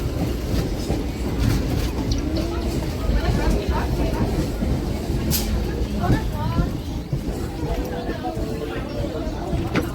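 A train runs fast into Gopalnagar station, its steady rumble and clattering wheels carrying on throughout with brief squeals, while people talk over it.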